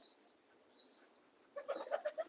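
Pigeons at a rooftop loft give faint, short chirping calls, followed by a soft run of low cooing notes near the end.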